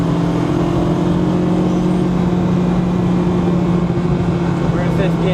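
Acura Integra DC5 (RSX Type R) engine pulling hard in fifth gear around 5,000 RPM, a loud steady in-cabin drone with constant harmonic tones over road noise, heard from inside the car.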